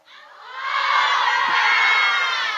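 Loud crowd cheering and whooping from an audience of men at an Islamic Qur'an study gathering, swelling quickly and holding steady as a sustained roar with high, shouted voices.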